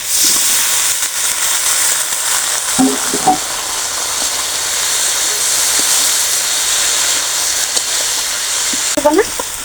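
Water lily stalks sizzle and hiss steadily in oil with ground onion, garlic and spice paste, a continuous loud frying noise with a few brief stirring knocks and faint voice fragments.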